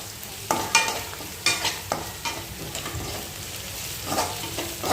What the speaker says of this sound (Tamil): பச்சை வாசனை போகிற அளவுக்கு இஞ்சி பூண்டோட பச்சை வாசனை போகிற அளவுக்கு நல்லா வதக்கிக்கோங்க